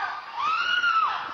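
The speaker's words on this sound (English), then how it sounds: "woman screams captured by home surveillance camera" A woman screaming, recorded by a home surveillance camera in a residential neighborhood, one long, high, rising and falling shriek lasting over a second, loud and slightly distant-sounding, with no talking.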